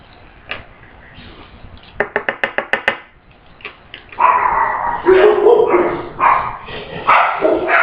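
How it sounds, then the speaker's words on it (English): A dog barks in a quick, close burst of about seven sharp yaps, after which people talk loudly nearby. "Oops, I made the dog bark."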